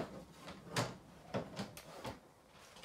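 Drawers in the interior of a camper or small trailer slide open and shut several times, each movement a short, close rumbling scrape spaced about half a second apart, with no voices.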